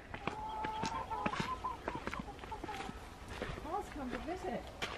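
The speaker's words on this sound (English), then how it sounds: "We're headed to go get the eggs from the chickens." Hens cluck and warble in a backyard coop, their wavering calls sitting under steady nearby talk and shuffling footsteps.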